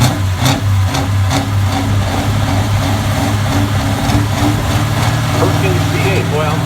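A brand new Massey Ferguson 1150 pulling tractor with a Perkins V8 engine idles with a deep, steady, loud rumble at a tractor pull event, with crowd noise around it.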